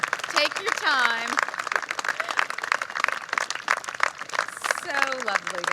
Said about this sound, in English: we've got to keep clapping for him